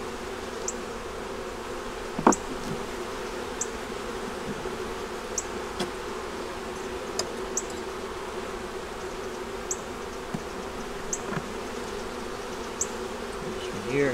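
Honey bees drone in a steady, dense hum around an open double-deep eight-frame hive holding eggs, larvae, brood and stores, with a few faint clicks and taps over the continuous buzz.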